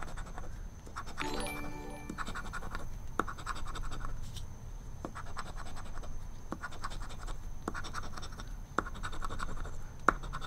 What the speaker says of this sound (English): We gotta finish scratching our ticket.